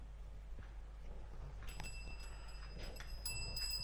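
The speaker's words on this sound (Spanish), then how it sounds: "ahora será la tuerca lo que golpee las campanas y va a sonar bastante más" Small metallic bell tones ring out a few times, bright and near, as a nut strikes the little bells of a homemade doorbell repeatedly over a low steady hum.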